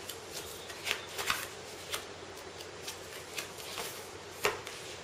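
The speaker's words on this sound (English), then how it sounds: "So we're going to discard these 3 cards. Deal ourselves 3 new ones." King of Tokyo board game cards being dealt, with a series of soft, quick card snaps and slides at close range against a quiet background.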